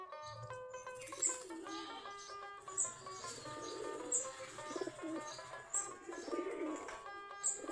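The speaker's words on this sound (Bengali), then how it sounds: "আমাদের দেশি গিরিবাজ কবুতর" Deshi Giribaz pigeons coo softly in a loft, with low murmuring coos and occasional faint chirps and shuffling, quiet and close.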